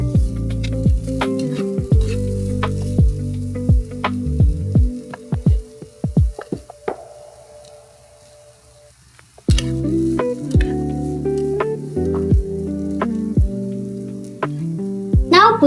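Veg fried rice is stirred in a tiny pan in a miniature kitchen: a steady sizzle under repeated close scraping taps, a brief quieter stretch midway, then the sizzle and stirring resume.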